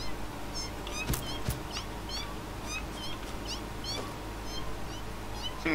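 Repeated high, wavering video game cat meows in Satisfactory over a steady low background hum, with a couple of sharp clicks partway through.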